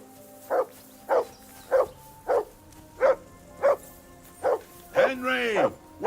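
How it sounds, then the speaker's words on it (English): A dog barks steadily in Kingdom Come Deliverance II, about nine evenly spaced single barks, close and fairly loud, ending in a drawn-out whine or howl with no voices over it. "Whistle at that mutt of yours to stop barking!"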